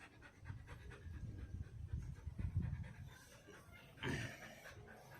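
A dog pants rapidly and steadily nearby, quick breathy huffs in a continuous rhythm, fairly quiet, with no one talking.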